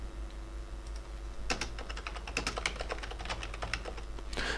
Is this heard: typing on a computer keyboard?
yes